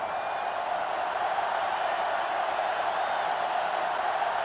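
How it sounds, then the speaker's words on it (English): A sellout stadium crowd in the NCAA Football 2005 video game makes a steady, loud roar with no breaks, a constant wall of cheering noise. "This sellout crowd is really making a difference now, as these guys can't even call the play."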